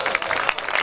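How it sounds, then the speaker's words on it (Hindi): A brief burst of audience clapping, dense and close, rises loudly for a moment. "जोरदार तालियां"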